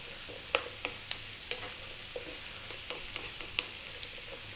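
Sweet potato pieces sizzle in a pot of stew, a quiet, steady frying crackle broken by scattered small pops and stirring clicks, close and with no talk.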